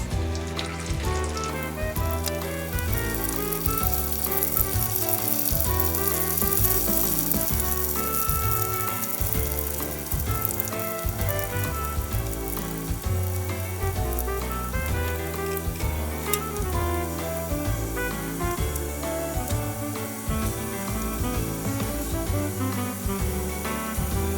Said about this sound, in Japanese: 油に火をつけてよく水気を取ったさつまいもを入れていきます。